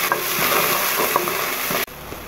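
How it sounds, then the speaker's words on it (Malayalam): Chopped onion sautés in a hot pan for lahsa, an Arabic breakfast egg dish, giving a steady, close, bright sizzle broken by a few soft scrapes and clicks of stirring, then dropping abruptly to a quieter hiss near the end. "നമ്മുടെ ഓണിയൻ കൊത്തിയരിഞ്ഞ സവോള അങ്ങനെ ഇട്ട് കൊടുക്കുക"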